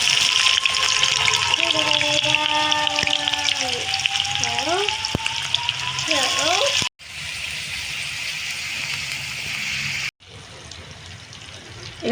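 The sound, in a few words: sliced onions frying in oil with burnt sugar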